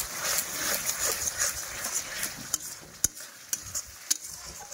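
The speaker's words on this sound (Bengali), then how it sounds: "মশলাটা পুরো ফ্রাই হয়ে গেছে।" Spice masala frying in a pan while being stirred, a soft continuous sizzle broken by several sharp scraping clicks of a spoon against the pan, close and moderately quiet, with no talking.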